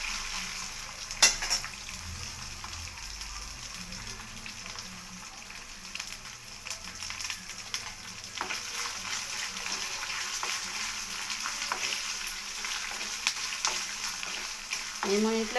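Black pepper and curry leaves sizzle steadily in hot oil in a pan while cooking pongal, a continuous crackling hiss with a sharp pop near the start and occasional stirring scrapes, close and moderately loud.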